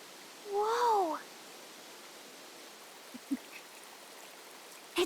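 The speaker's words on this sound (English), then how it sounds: "Running water nearby. Sounds like an open space. Could be a natural spring of some kind." Running water from a natural spring in the video game Metaphor: ReFantazio makes a steady, soft rushing wash throughout, joined early by a brief voice-like call and a few small taps later.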